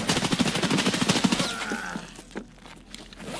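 Rapid automatic gunfire rattles out in a fast burst in a tactical shooter game set during night raids, followed by a couple of scattered single shots and a fading tail.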